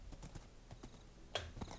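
Horse hooves in Minecraft while riding fast: soft, uneven clip-clop taps at a quick pace, faint and close, with one sharper knock near the end.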